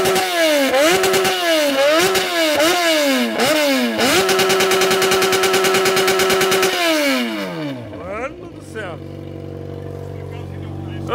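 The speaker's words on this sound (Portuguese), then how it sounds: "Ó o ronco da XJ, vê que tá, mano. Tá berrando ou não?" A Yamaha XJ6 motorcycle engine revs hard in repeated bursts, then holds a high whine before dropping back to a low idle, loud and close.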